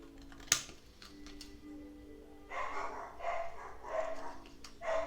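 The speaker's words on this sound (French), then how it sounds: "j'ai les chiens qui aboient" Dogs barking in a home, heard as a series of moderately faint, slightly distant barks in the second half, following an earlier sharp click and a low background hum.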